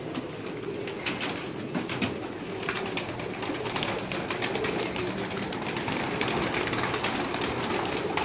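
Pigeons cooing on a rooftop loft, soft repeated coos over a steady hiss of outdoor ambience, moderately distant with a faint engine hum in the background.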